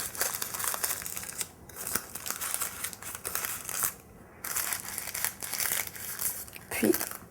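Parchment paper crinkles and rustles close by as it is folded and tucked into a piping cone for chocolate, a steady run of soft crumpling with a few sharper crackles.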